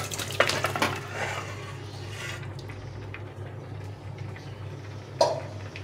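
A metal pot of singi fish curry is handled on a home stove, giving a few clanks and scrapes, with two sharp knocks, over a steady low hum of the burner.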